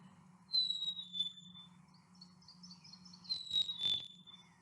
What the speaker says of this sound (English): And maybe you know that is the song of the black-capped chickadee.